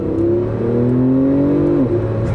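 A Porsche 911 Turbo S pulls hard in second gear, its engine a loud, steady, smooth rising drone heard from inside the car, easing slightly near the end, with no talking.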